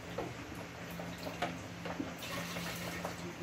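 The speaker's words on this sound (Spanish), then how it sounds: "Echamos la leche." Milk poured into a blender jar for a fruit smoothie, giving a soft, steady liquid stream with faint splashes close by, fairly quiet and with no talking.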